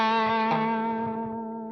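An electric guitar through a Simble Dumble-style overdrive pedal rings out a sustained, harmonically rich chord, loud at first and slowly decaying with a smooth, gritty tone.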